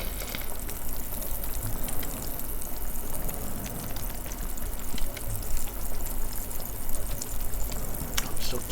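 Carbuncle mushrooms cook in Abiotic Factor, giving a steady soft sizzle and watery hiss that runs evenly for several seconds at moderate loudness.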